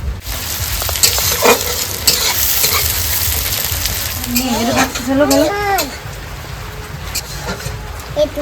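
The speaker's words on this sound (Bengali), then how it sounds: "শুকনো লঙ্কা দিয়ে দেবো জিরে দিয়ে দেবো পেঁয়াজ দিয়ে দেবো" Onion, dry red chilli and cumin frying in hot oil, a steady loud sizzle with stirring scrapes throughout and a brief higher whistling tone partway through; no talking.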